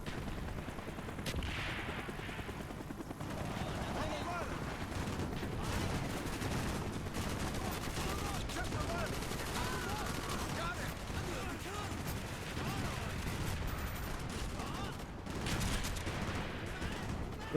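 Machine gun fire rattles in rapid, sustained bursts throughout the Call of Duty: Black Ops video game, mixed with other battle noise at a steady, dense level.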